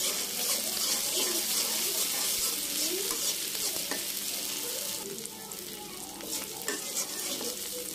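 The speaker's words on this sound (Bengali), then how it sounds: "আমি একটু আদা রসুন বাটা দিয়ে দিচ্ছি আর এটাকে একটু ভেজে নিচ্ছি" Ginger garlic paste fries in a pan after onions, a close, busy sizzle with scraping stirs and wet crackle, easing slightly midway.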